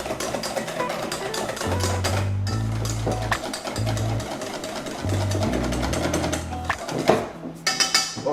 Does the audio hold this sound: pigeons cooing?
no